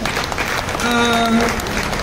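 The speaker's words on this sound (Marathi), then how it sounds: "तुमच्याकडनं जोरदार टाळ्या होऊन जावा" Loud applause from the audience at a Diwali Pahat morning stage show in Parksite Vikhroli, a dense steady wash of clapping with a voice or tone sustained over it midway.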